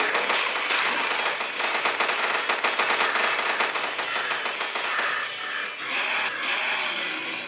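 Rapid automatic gunfire from the mobile zombie shooter Call of Mini, a dense, loud stream of shots rattling steadily for several seconds before thinning slightly near the end.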